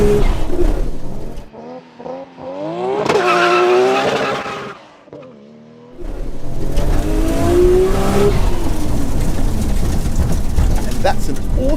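A Nissan Skyline R34 GT-R makes a hard 0-60 launch, engine revving loud with tire squeal, then screaming up through the gears with shift breaks in between, close and powerful.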